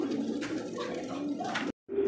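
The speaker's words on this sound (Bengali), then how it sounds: "দেখতে পাচ্ছি এখানে কিন্তু শর্ট ফেস কবুতর আর চুইঠাল" Short-faced pigeons cooing at close range, a steady run of soft low coos that continues for under two seconds, then breaks off in a brief gap before resuming.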